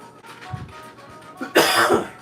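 A single harsh cough bursts out near the end, close and loud, after a few soft breaths and faint rustling.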